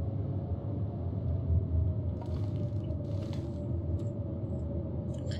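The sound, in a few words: storm outside in video game The Long Dark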